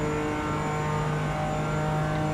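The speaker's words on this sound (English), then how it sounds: "I think on the stream the car sound is a bit too high" A steady, loud race car engine in a racing sim game drones at high revs with a constant pitch, filling the whole span without any pauses.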